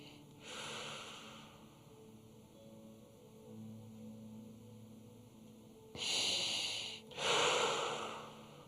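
Several slow, deep breaths are drawn in and pushed out during a morning exercise class, heard as rushing airy bursts that grow louder and sharper toward the end, with faint background hum between them.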